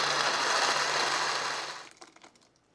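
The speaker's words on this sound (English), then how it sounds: "Puree this up, just a moment." Kitchen blender pureeing chopped gazpacho vegetables into a liquid soup, a loud steady whirring motor that runs close and alone for nearly two seconds, then cuts off and winds down with faint rattles.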